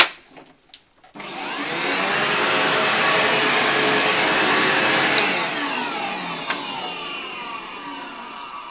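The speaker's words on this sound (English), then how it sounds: "So just to see that there's nothing in the vacuum system. I'm going to do just a quick run, first of all, just to clear everything out." A professional carpet-cleaning vacuum system starts abruptly after a couple of clicks and roars at a loud, steady pitch for several seconds, then eases slightly as it keeps running.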